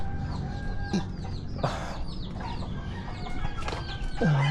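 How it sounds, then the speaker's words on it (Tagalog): Chicks and chickens in a backyard farm, with repeated close clucks and chirps over a steady outdoor background. "Itong mga chicks."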